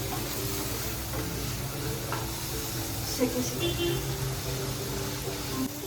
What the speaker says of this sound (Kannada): ಆನಿಯನ್ ಸ್ವಲ್ಪ ಬ್ರೌನಿಶ್ ಆದಮೇಲೆ ಟೊಮೆಟೊ ಹಾಕೊಂಡಿದ್ದೀನಿ. ಸ್ವಲ್ಪ ಟೊಮೆಟೊ ಫ್ರೈ ಆಗಿ